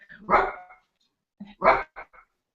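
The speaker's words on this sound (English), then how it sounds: "Sorry, that's my dog." A dog gives two loud, close barks, each followed by shorter yips, with a quiet gap between them.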